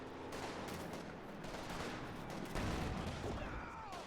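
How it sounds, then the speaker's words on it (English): Rapid rifle fire from a real-time strategy war game with conscripts and T-34 tanks, a dense continuous crackle of overlapping shots that grows louder midway through. "Battle of the scary high-pitched rifles."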